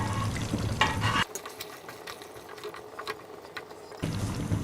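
Mutton karahi with garlic sizzles in hot oil in a wok as a spoon stirs it, a loud crackling fry with scraping strokes, dropping quieter through the middle before the frying surges back.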